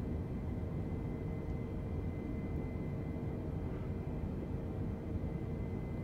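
Steady, droning airplane engine hum from Microsoft Flight Simulator while flying parallel to a runway, a constant low-frequency tone with no breaks, alone and without talk.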